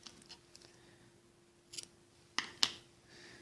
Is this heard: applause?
no